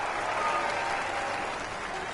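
Crowd applause at a golf course in Tiger Woods PGA Tour, a steady, dense patter of clapping that holds at an even level for a couple of seconds without a break.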